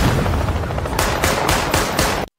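Rapid automatic gunfire from an action film bursts out in dense, loud volleys, then cuts off sharply after a couple of seconds.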